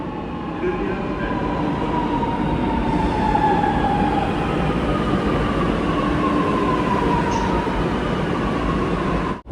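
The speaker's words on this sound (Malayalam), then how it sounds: "പോകാനുള്ള മെട്രോ ഇതാ കടന്നു വരികയാണ്" A metro train rolls steadily into a station in Lucknow with a continuous rumbling roar and a faint rising whine, loud and close throughout.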